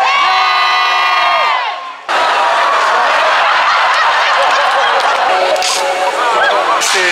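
An audience at the Universal Studios Hollywood Waterworld show, with a loud amplified tone at the start, then a sudden burst of crowd shouting and cheering that stays loud and dense to the end.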